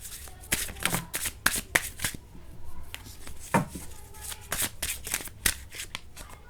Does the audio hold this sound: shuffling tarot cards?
yes